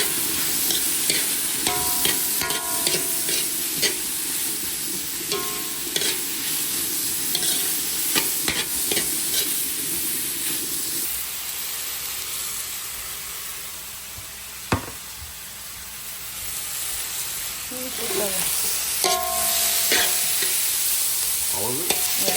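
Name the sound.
onion and garlic frying and being stirred in pan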